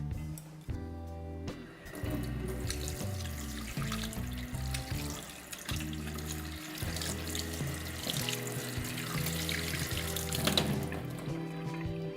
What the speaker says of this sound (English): I'm going to rinse the spoon, and then I'm also going to rinse my hands and clean around the edge of the plate